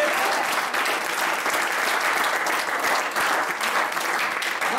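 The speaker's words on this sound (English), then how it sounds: "why don't you clap your hands and give God a good prayer?" A church congregation claps steadily, producing a dense, sustained wash of many hands applauding together at close range, uninterrupted from start to finish.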